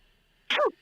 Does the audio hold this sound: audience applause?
no